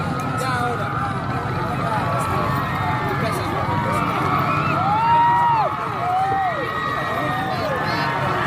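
A crowd cheers and roars at a traditional boat race, a continuous wash of noise with a few whistles rising above it while an announcer talks over the top.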